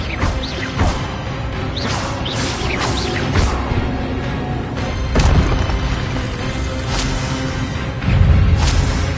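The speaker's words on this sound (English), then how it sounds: "Expelliarmus!" A spell effect from Hogwarts Legacy, cast as Expelliarmus: booming magical impacts and swooshing bursts that repeat over a dense, loud game soundscape, with heavier hits near the end.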